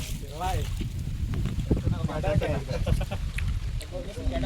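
A small wooden boat rowed on open water with wind buffeting the microphone, oar and water sounds mixed with people talking throughout.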